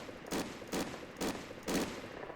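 A World War II machine gun in the ARMA 3 Iron Front mod fires its last rounds in four short, evenly spaced bursts, fairly quiet and distant, with nothing else over it.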